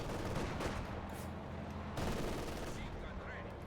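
Machine gun fire in Company of Heroes 2, a World War II real-time strategy game, rattling in dense continuous bursts amid a busy battlefield mix, with an overlapping second burst midway.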